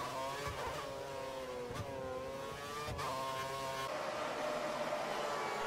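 Race cars roar away from the start in an F1-style racing video game set at the German round, with a Mercedes among them: layered engine drone with rising revs and gear shifts, loud and continuous, no talk.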